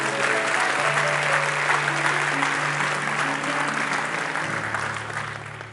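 A church audience at an inner-healing conference applauds in a dense, sustained roar of clapping that tapers slightly at the end, with a low musical drone underneath.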